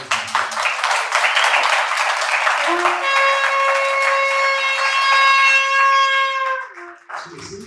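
A church congregation applauds a graduate of a prayer course, clapping for a few seconds before a long sustained tone rings out over it, then fading as a voice speaks briefly.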